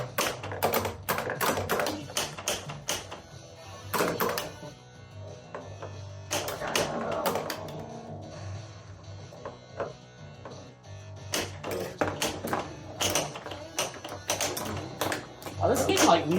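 Black Knight 2000 pinball machine in play during repairs and gameplay, with bursts of tapping flipper and ball clatter, mechanical clicks and electronic effects running continuously throughout, with a person talking over the game at times.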